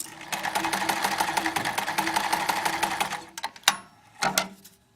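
A sewing machine stitches through fabric pieces for a half-square triangle quilt block, a rapid close chatter of the needle for about three seconds, then a few short bursts as it stops and starts.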